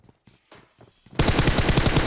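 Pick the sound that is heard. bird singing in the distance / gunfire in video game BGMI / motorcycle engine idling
gunfire in video game BGMI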